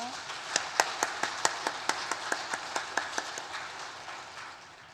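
An audience at a church women's association seminar claps in unison after a special lecture, about fifteen evenly spaced sharp claps that gradually fade into a softer wash of clapping.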